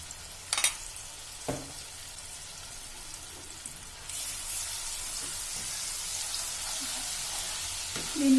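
Ginger-garlic paste goes into hot oil. After a few seconds of quiet kitchen clicks and knocks, a close, steady sizzle starts and continues to the end with faint stirring sounds.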